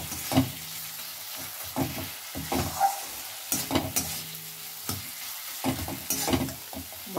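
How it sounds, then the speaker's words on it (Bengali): Spice masala stirred and fried in hot oil for a curd katla fish curry, with repeated scraping strokes of a spoon through the thick paste over a steady sizzle, close and fairly loud, no talking. "মশলাটা ভালো করে কষে নেব।"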